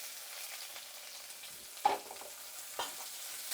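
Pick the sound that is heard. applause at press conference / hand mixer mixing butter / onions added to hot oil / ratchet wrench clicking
onions added to hot oil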